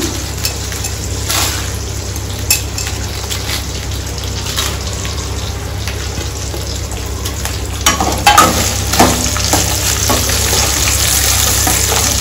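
Dry red chillies frying in hot oil for tamarind rice, a loud continuous sizzle and crackle close up, with occasional stirring scrapes and no talk.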